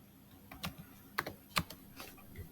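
Computer keyboard typing a multi-line Python comment: a handful of separate, moderately close keystrokes spaced irregularly over a couple of seconds, with no voices.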